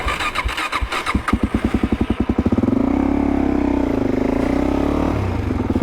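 A motorcycle on an adventure-riding loop in the Blue Mountains near Sydney goes from a rhythmic, thumping idle into a steady, gentle acceleration. The engine drone swells and holds loud and close, with no talk over it.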